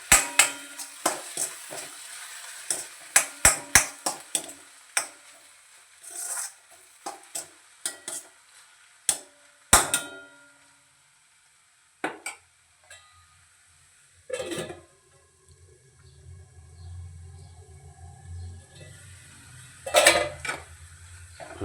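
Utensil scraping and stirring in a pan while a dish is finished off with a sprinkle of roasted peanut powder, with irregular clinks and scrapes near the mic and a low sizzle underneath, no one talking.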